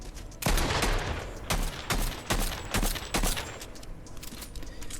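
Gunfire in a Fortnite solo match, fired through a wall: several loud, close bursts of shots in quick succession, tapering into quieter trailing noise.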